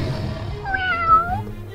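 A single cat meows in a bedtime story, one clear drawn-out rising and falling cry, close and fairly loud over a soft low background.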